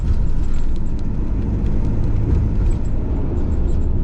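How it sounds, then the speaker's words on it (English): Road traffic in Cordoba, Spain, forms a dense, continuous low rumble of engines that stays loud and steady throughout, with no talking. "I'm now got caught up in the traffic of Cordoba"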